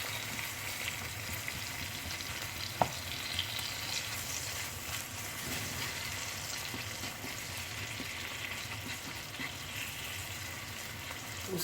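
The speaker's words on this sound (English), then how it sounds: "We'll stir and we'll bring it to a fry for 5 minutes." Vegetable fried rice seasoned with salt and half a stock cube sizzles in a pan, a steady, fairly faint hiss running throughout with one brief clink of stirring, and no one speaking.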